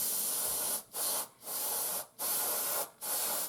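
Airbrush or spray can hissing steadily as paint goes onto a Panzer IV scale model tank, including its underside, in four long close bursts separated by brief pauses.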